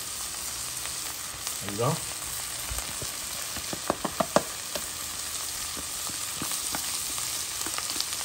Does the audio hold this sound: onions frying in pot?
yes